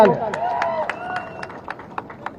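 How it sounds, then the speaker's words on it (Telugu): At a political event, someone speaks over a rhythmic run of sharp, spaced claps, a dozen or so evenly timed strikes that stand out beneath the talking. "గట్టిగా చప్పట్లు కొట్టాలి."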